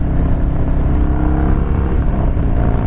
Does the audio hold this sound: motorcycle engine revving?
yes